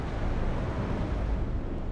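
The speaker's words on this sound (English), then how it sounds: "this explosion and smoke special effects, they use up a lot of FPS for no good reason" Explosion effects in the war strategy game WARNO: a dense, rolling, low rumble of blasts that holds steady throughout, loud and with no voices on top.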